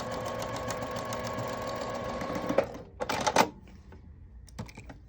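A sewing machine runs a straight quarter-inch seam down fabric, a steady close whir for a couple of seconds, then stops, followed by a few sharp clicks and handling knocks.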